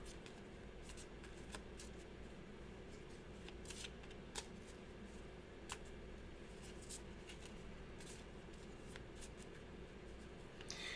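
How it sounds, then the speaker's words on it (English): A deck of Gloomhaven board game cards being shuffled on a table, giving quiet, steady riffling with scattered sharper card snaps over a soft background hum. "let's go ahead and shuffle up for the next one"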